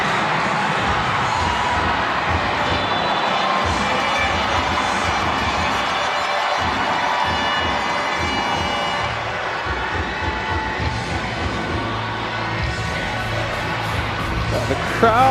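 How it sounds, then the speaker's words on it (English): A basketball crowd at the Nueva Ecija Coliseum cheers in a steady, dense roar that fills the arena, loud and continuous, with a commentator's voice running over it. "The crowd is definitely loving it here at the Nueva Ecija Coliseum."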